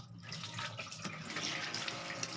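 Tap water runs steadily into a kitchen sink as freshly cut vegetables are rinsed, a continuous close splashing hiss with no voices.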